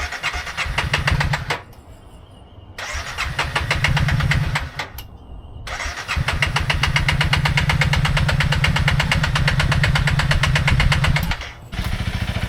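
Honda CRF motorcycle engine starting and revving in a repair shop. Loud, close engine bursts rise and cut out twice, then settle into a sustained rough running rev with throttle before dropping briefly at the end, with no speech.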